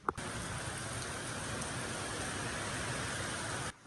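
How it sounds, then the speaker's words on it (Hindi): Rain falls outside at night in a soft, even hiss that holds steady, heard from indoors at a distance, quiet and unbroken until it cuts off. "अभी बारिश आ गई है।"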